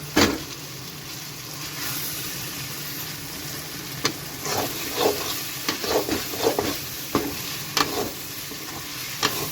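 Egg being lightly stirred in a hot pan, a steady sizzle running underneath while scattered soft scrapes and taps of the spatula come irregularly through the second half.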